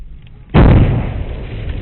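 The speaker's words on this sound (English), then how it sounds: "I probably didn't need the second shot" A single loud rifle shot fired at a crocodile cracks suddenly after a quiet moment, followed by a booming rumble and echo that fades slowly outdoors.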